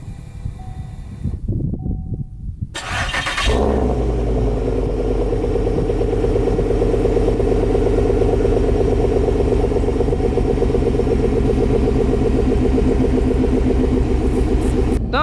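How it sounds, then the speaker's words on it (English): A car engine with an LS4 V8 and a homemade Dynamax exhaust with the resonator deleted cold-starts after a few quiet seconds, catching and settling into a loud, steady, rumbling high idle close by. "So let's get a little cold start."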